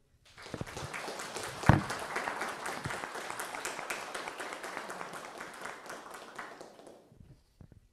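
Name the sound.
audience applause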